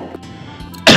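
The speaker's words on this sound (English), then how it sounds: "First cough in Counter-Strike 2." A game character in Counter-Strike 2 lets out a single sharp cough near the end, loud and close, after a quieter stretch of low game ambience.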